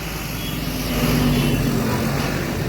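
A vehicle draws up on the road, its engine rumbling low and steady close by, swelling slightly as it arrives, with no talk over it.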